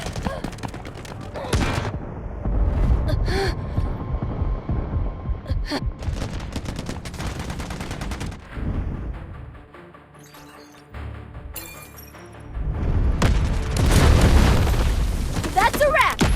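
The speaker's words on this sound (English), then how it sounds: "Artillery barrage incoming." Artillery barrage in the shooter game Delta Force Mobile, loud booming blasts and rumbling detonations rolling in bursts, with a lull midway before a heavy final volley, under game voice callouts.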